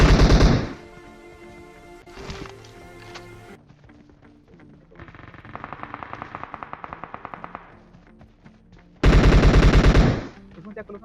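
Bursts of automatic gunfire in a battle royale video game, with loud rapid volleys at the start and end and a quieter stretch of rattling shots in between, set among game effects.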